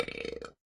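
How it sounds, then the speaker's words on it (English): A single drawn-out burp after a meal of sausages, fries and fried chicken at a Coney Island campout, close and loud with a rapid rattling pulse, cutting off abruptly into silence. "Whoops, I'm burping."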